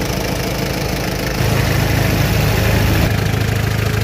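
A Mitsubishi 4D56 turbo diesel engine, being checked for an oil leak, idles nearby with a loud, steady, even clatter and hum. The running note deepens slightly partway through, and no one speaks.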